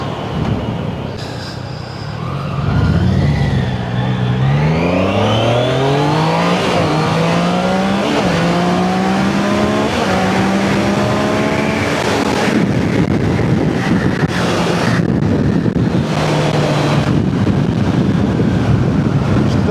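A 2025 Triumph Daytona 660 motorcycle accelerates hard through several gears, its engine pitch climbing in repeated sweeps with brief dips at each shift, loud and close over steady wind rush.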